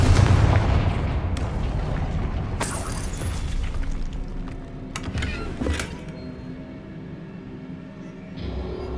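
Explosive spell blasts from the video game Hogwarts Legacy, with booming impacts and sharp cracking bursts repeating over a dense rumbling game soundscape, loud and continuous with no speech.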